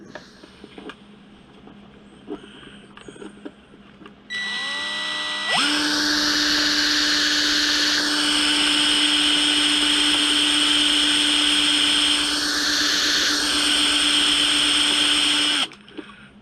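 A motor whirs up and then a high-pitched drill with a dull bit whines loudly and steadily for about ten seconds before cutting off.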